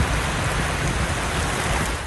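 Heavy summer rain pours onto city streets in Bursa, a dense, steady hiss of drops striking pavement that holds at constant loudness, with no voices and a low rumble underneath.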